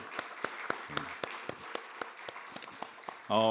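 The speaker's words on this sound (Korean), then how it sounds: "우리 서로 격려하는 의미에서 박수 한번 쳤으면 좋겠습니다" Sparse, distinct claps ring out in a church at an evening gathering closing a week of special dawn prayer services, a few hands striking in an uneven rhythm close by before a voice begins at the end.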